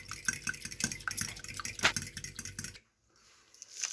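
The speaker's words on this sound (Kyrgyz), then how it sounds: "жумуртканы жакшылап чалып алабыз, аралаштырып" A whisk beats eggs in a bowl, producing rapid rhythmic metallic clinks and scrapes against the bowl that stop abruptly, followed by near silence and faint room noise.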